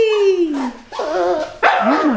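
A young puppy gives a few high, whiny yips and barks at close range, with short pauses between bursts.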